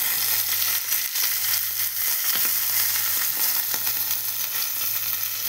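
Two pieces of fish fry in hot oil with a steady, close, bright sizzle and crackle that holds evenly throughout, no voices.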